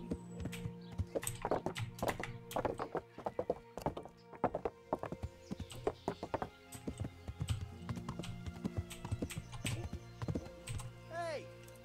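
Clip-clopping horse hooves in the game Kingdom Come: Deliverance, rhythmic thuds repeating steadily over background music, with a brief horse whinny near the end.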